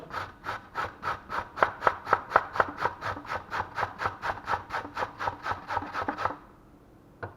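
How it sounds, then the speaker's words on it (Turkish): A carrot is grated on a kitchen grater for a minced-meat lasagna, giving about two dozen steady, evenly spaced rasping strokes close by before stopping abruptly into near silence. "Evet ve son olarak havucumuzu rendeliyoruz."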